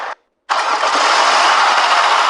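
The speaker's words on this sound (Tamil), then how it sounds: "வண்டி திரும்பி ஸ்டார்ட் பண்ணலான்னு சொல்கிறேன்." A vehicle engine starts in the Roblox game Drive Beyond Horizon with a brief cranking burst, a short pause, then a loud steady rev that holds to the end.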